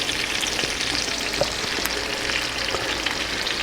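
Alaskan halibut fillets frying in hot butter in a pan, a loud, even sizzle and crackle held steadily throughout with no voices.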